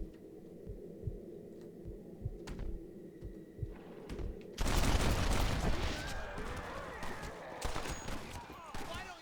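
Gunfire in the horror game Amnesia: The Bunker, a sudden loud burst of dense, crashing noise that follows a quiet stretch of low throbbing hum and soft thuds, then trails off into rumbling debris.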